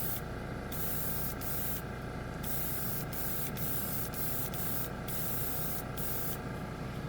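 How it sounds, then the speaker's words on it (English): An air compressor runs steadily throughout, a loud, even, continuous drone while plastic models are spray-painted with Dupli-Color primer in dark red. Hissing spray bursts rise and cut out repeatedly over it. "The air compressor just kicked in."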